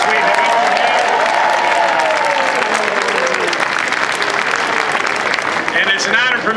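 Large audience at a Founder's Day celebration applauding and cheering, a loud sustained wash of clapping with voices and whoops, a speaker's voice running over it throughout.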